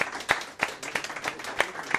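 An audience at an AI event in Boca Raton applauds its panelists with a sparse, fairly quiet round of distinct individual claps in an uneven rhythm, a few sharp ones standing out.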